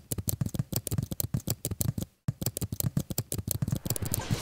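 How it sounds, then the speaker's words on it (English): Rapid, crisp clicking of keys being typed in quick bursts, with one brief pause midway, close and fairly quiet. "keyboard sound effects"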